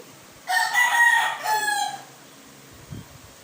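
A young White Kelso gamecock stag crows once, close and loud, in a two-part cock-a-doodle-doo lasting about a second and a half. A faint low thump follows in otherwise quiet surroundings.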